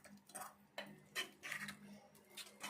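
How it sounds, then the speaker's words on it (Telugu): A ladle stirs lentil and bottle gourd dal with fenugreek leaves in a metal pot, making a series of soft scraping clinks and taps against the vessel, close and quiet, in irregular strokes with no talking. "కొంచెం ఇట్లా గరిట పెట్టి కలుపుకోవాలి"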